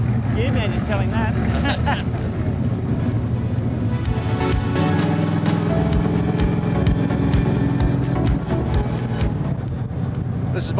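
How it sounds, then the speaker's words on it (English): A TA2 race car runs laps, its engine a loud, continuous, rising-and-falling drone heard from the cockpit with gear-change dips, and a voice speaks over it. "This is my first laps in a TA2 car."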